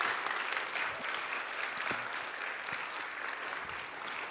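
Sustained applause from an audience at a kindergarten graduation ceremony, steady dense clapping lasting throughout without pause.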